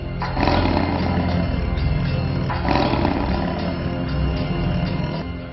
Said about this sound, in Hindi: मंदिर में सुनाई देती है सिंह की दहाड़।